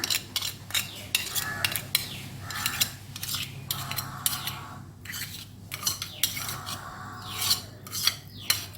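A spoon scrapes and stirs thick moong dal halwa in a small metal pan, repeated rasping strokes in an uneven rhythm, close up with no talking.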